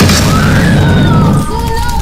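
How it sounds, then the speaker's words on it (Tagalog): A loud explosion in a dramatized film scene of chaos in a house, a dense roaring blast that sustains for about two seconds with whistling tones above it. "Sa gitna ng kaguluhan, may isang malakas na pagsabog."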